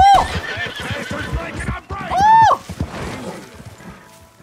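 A horse in Red Dead Redemption 2 gives two loud whinnies over clip-clopping hooves and a crash, close and prominent, with game sounds around it.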